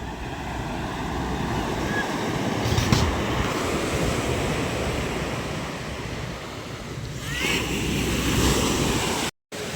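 Continuous roar of large ocean waves breaking on a shore at Tanza, Cavite, swelling and easing over several seconds, with wind in the background and no clear speech.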